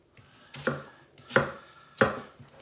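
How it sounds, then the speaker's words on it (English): A kitchen knife cuts through an onion onto a chopping board in three sharp, distinct thuds spaced about two-thirds of a second apart, close and clear with quiet pauses between strokes. "Slice it so you're getting nice slices"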